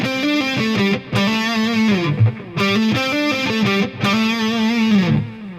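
Distorted electric guitar plays a rock lick of hammer-ons and pull-offs, a fluid run of bending, legato notes repeated in phrases with short gaps, loud and close with no talking.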